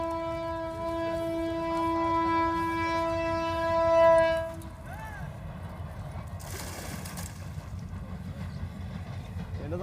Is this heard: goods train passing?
yes